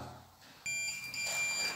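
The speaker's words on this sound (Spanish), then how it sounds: "lo que voy a hacer es activar una alarma" An Iddero Verso KNX control panel sounds its alarm. A faint electronic tone of high, steady beeping starts abruptly partway in and keeps going over a quiet room background.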